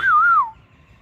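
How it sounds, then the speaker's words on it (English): A long-tailed parrot gives a single clear whistled call that glides up and down and fades within half a second, close and loud with no other sound around it. "Hey parrot, look at me."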